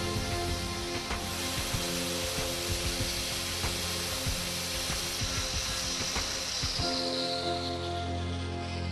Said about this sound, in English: Then the material is sanded down 1 mm over a width of barely 20 mm at both ends.